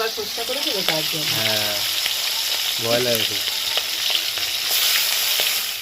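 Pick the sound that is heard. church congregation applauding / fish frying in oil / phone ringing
fish frying in oil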